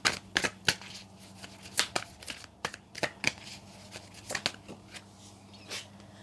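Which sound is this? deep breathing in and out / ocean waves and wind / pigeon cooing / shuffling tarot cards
shuffling tarot cards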